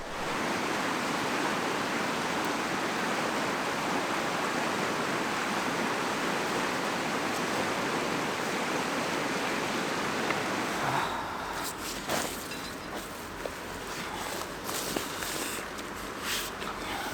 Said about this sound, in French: je vais profiter de la petite rivière qui se trouve là pour faire le plein d'eau